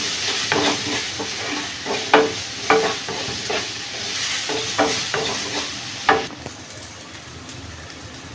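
Chopped onions and turmeric fry in oil for an eggplant and chana dal curry, a steady sizzle broken by regular scraping stirs every second or so, near and fairly loud, with no talking.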